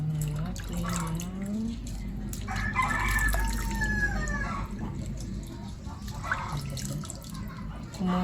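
Chickens clucking with a rooster crowing in a rural yard, several drawn-out crows and clucks rising over a constant low background hum, the birds fairly close and clear, with faint dripping water beneath.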